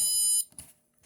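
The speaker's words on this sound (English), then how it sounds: "So I think that's pretty cool that you can use a buzzer like that." A small buzzer wired to an Arduino Nano gives a short, shrill electronic tone that cuts off abruptly, followed by faint quick blips and near silence.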